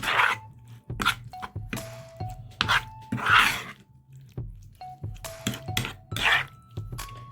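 Chicken liver being mixed with spices and mustard oil in a bowl, heard as repeated close squishing and scraping strokes against the bowl in irregular bursts, with no talking.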